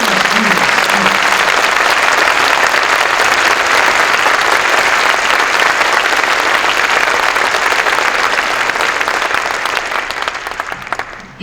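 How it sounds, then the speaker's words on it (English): Audience applause at a Saturday concert, a dense sustained clapping filling the room at full strength and tapering off near the end, with no voices over it. "So please join us in giving a warm round of applause to the people of Calvary for letting us do this"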